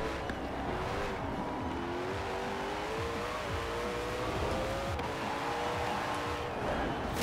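A Koenigsegg engine accelerates in Forza Horizon 4, a loud, continuous rising and falling whine through gear changes with some tire noise, sustained throughout.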